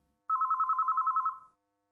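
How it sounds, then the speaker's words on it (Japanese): A telephone rings in the visual novel game WHITE ALBUM, a rapid trilling electronic ring of about a dozen even pulses, loud and alone, lasting just over a second before cutting off. "電話だ。"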